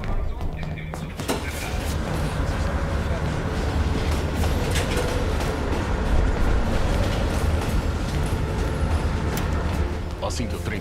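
A train in the video game Call of Duty: Black Ops Cold War rumbles steadily with scattered thumps and clanks, and voices talk over it throughout.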